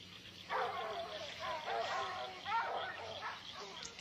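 Dogs bark and yip outdoors in a 1986 film scene, a few overlapping rough barks mixed with voices over a steady background hiss.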